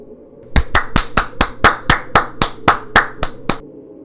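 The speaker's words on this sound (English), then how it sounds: "Clap once for each person." Hands clap sharply about a dozen times in a steady, evenly spaced rhythm, each clap crisp and close, over quiet background with no talking.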